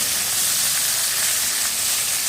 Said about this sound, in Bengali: পেঁয়াজ কুচানো, কাঁচা লঙ্কা, ধনিয়া পাতা সব কিছু দিয়ে ভালো করে লাল লাল করে ভেজে নেব